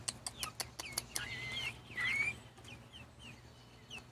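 Young pullet hens cluck and chirp nearby, starting with quick sharp clucks and moving into longer rising squawky calls, fairly soft over a low background hum.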